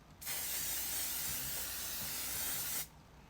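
Makeup setting spray hisses from a bottle in one steady burst of about two and a half seconds, close and fairly loud, with no talking over it.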